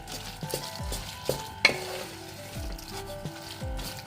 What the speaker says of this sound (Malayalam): കുറച്ച് പച്ച വെളിച്ചെണ്ണ ഒഴിച്ച് കൊടുക്കുക അതോടൊപ്പം തന്നെ കുറച്ച് കറിവേപ്പില എന്നിട്ട് നന്നായിട്ട് മിക്സ് ചെയ്യാം